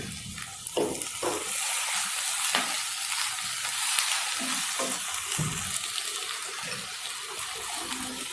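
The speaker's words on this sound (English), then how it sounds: "Add the curry leaves." Curry leaves dropped into hot oil for a Malaysian-style fish curry, crackling and sizzling steadily with scattered sharp pops and stirring clatter, fairly quiet and with no talk.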